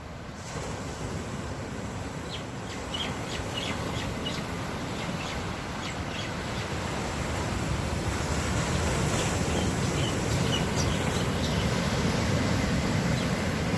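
Ocean surf and wind on a Hawaii shoreline, a steady broad wash of waves with buffeting wind noise on the microphone, growing slightly louder toward the end.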